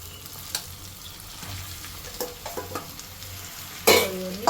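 Marinated chicken fries in a pan with a steady close sizzle, broken by several clinks and scrapes as it is stirred, ending in a louder burst of spatter.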